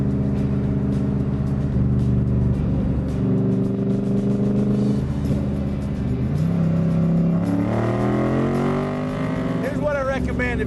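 Factory Five kit car engine rumbling loudly as it drives, then revving up and accelerating through the gears, with someone talking over the steady drone.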